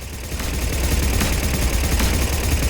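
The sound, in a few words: Blood Pack gun firing in video game Mass Effect 3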